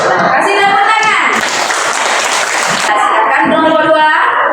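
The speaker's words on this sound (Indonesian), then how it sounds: "Kasih tepuk tangan." Classroom applause: a short burst of clapping from a group of students rises in the middle for about two seconds, with a teacher's voice talking before and after it.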